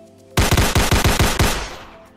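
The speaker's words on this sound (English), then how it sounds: "Now all we need is just a few gunshots." A rapid burst of about ten loud gunshots from a sound effect, fired in an even automatic rhythm, then a short fading tail, heard during a Mario Kart online stream.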